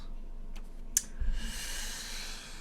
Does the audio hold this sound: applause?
no